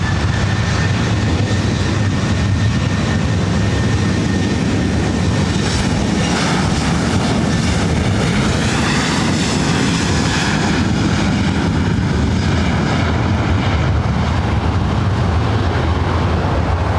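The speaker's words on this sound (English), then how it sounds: "Southwest Airlines flight 5754 heading to Phoenix. That one is 737 at Max 9." A Southwest Airlines Boeing 737 Max 9 takes off at LAX, its jet engines roaring loud and unbroken for the full length, a dense wall of noise with no voices.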